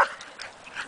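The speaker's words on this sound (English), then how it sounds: "let him bark." A corgi lets out a few quick, faint yips in a burst of under a second, sounding somewhat distant.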